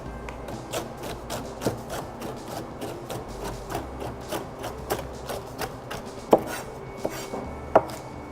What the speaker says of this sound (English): Now I'll pull the salad towards me and chop again from right to left.